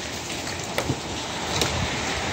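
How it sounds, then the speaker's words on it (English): Dense, steady hiss of heavy, cold rain pouring down, with a couple of brief sharper taps standing out against the continuous wash. "Oh, that's a lot of rain."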